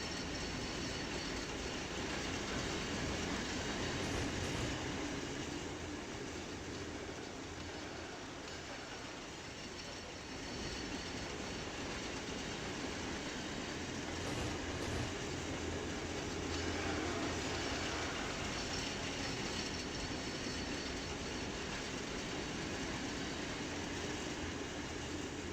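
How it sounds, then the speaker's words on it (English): Diesel multiple unit train running in the Trainz 22 railway simulator game, a steady broadband rumble of wheels and engine lasting throughout with no speech. "I'm going to tell my kids this is a diesel multiple unit."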